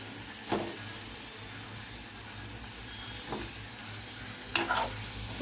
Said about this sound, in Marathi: मसाला बनवलेला आहे आता त्यामध्ये अंडे सोडते